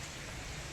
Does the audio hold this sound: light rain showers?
yes